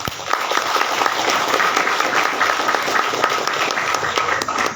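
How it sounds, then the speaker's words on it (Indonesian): Loud, dense applause from a large audience at a university graduation-eligibility ceremony for an economics and business faculty, sustained evenly with no break and no speech over it. "Tepuk tangan."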